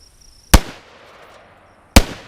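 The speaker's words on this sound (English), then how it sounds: "When I fired with the AR platform" An AR-platform rifle fires 5.56 NATO rounds, 55-grain full metal jacket, at a target 5 yards away: two sharp, loud shots about 1.4 seconds apart, each with a short ringing tail.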